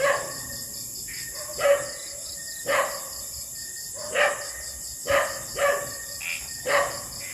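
A dog barks in regular single and double bursts, fairly close, around an old abandoned plant. A constant high insect-like chirring drones behind the barks.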